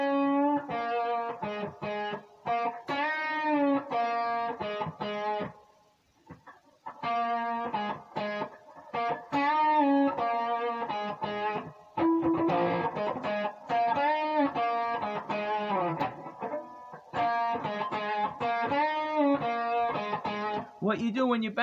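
Electric guitar with distortion plays a repeating blues motif of root and flat seventh notes with bent, sliding pitches, phrases separated by short pauses, loud and close.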